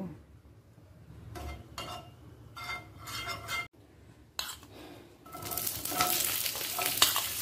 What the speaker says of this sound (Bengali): পেঁয়াজ আর টমেটোটাকে একই সাথে ছেড়ে দিলাম আর 3টে কাঁচা লঙ্কাকেও একই সাথে ভেজে নেব।